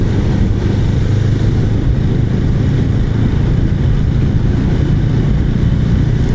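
A BSA Goldstar 650 motorcycle engine runs on the road, a loud, dense steady roar with rumbling low throb and wind noise, constant throughout with no talk.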